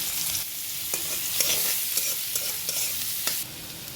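Chopped onion and green chili sizzle steadily in hot oil, with a spoon or spatula scraping and stirring the pan in regular strokes close up.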